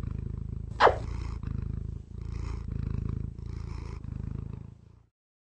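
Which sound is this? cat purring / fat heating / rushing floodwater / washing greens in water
cat purring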